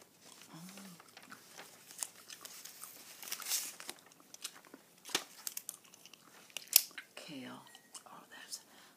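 Bubble gum being chewed close up, with soft wet smacks and small crackly clicks scattered through a quiet, soft-spoken setting, plus a couple of brief low voiced murmurs.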